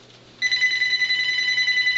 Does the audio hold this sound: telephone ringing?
yes